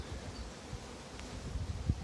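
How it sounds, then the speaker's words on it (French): A soft, steady buzzing of honey bees around hives during a chestnut honey flow fills the air outdoors, faint and diffuse like a swarm, with light rustling and no talk. "Vous voyez là les abeilles."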